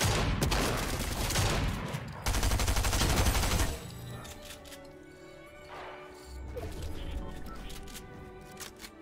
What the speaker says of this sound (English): I did not mean to shoot my sniper, bro.